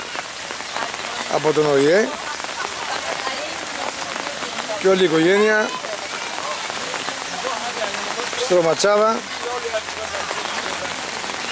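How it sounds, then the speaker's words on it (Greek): Steady rain drums on surfaces and tarpaulins at an outdoor shelter where families sleep on mattresses, a dense constant patter throughout, with someone speaking over it in short bursts. "μέσα στη βροχή."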